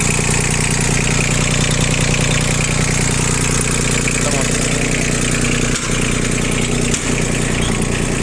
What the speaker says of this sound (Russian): Здесь нас ждет 3-цилиндровый двигатель Yanmar